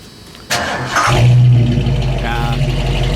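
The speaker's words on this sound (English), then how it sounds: "Start it up, and that way they can hear the exhaust." A 1972 Mercury Cougar, a two-owner car with a freshly tuned carburetor, fires up after a brief start sound and settles into a loud, steady low exhaust rumble with a rising rev, while voices talk nearby.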